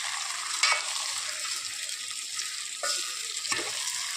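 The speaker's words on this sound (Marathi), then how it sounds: "फिश मसाल्यामध्ये थोडेसे आपण फ्राय होऊ देऊ।" Steady crackling sizzle of fish masala frying in a pan, with a few brief clinks or scrapes standing out over the constant hiss.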